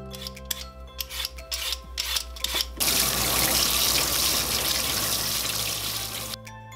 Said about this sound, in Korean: 껍질을 까준다.